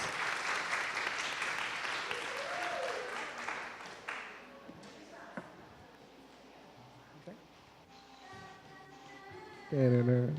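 An audience at an opening class for a public relations course claps for about four seconds, the applause dying away into quieter room noise with scattered sounds and speech, then a louder voice near the end.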